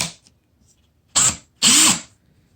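A DEWALT cordless drill gives two short, loud bursts about half a second apart, the second running longer, each with a whirring motor whine.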